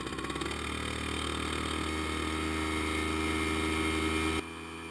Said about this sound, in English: use the exhaust from a 1-horsepower outboard engine to cook a sandwich